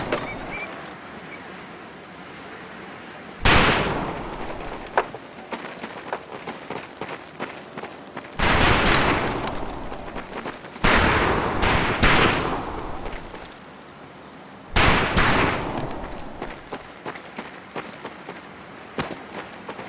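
Rifle fire on a training range in the Medal of Honor Pacific Assault game, with several loud bursts of rapid shots separated by quieter gaps and shuffling, close and prominent with no talking.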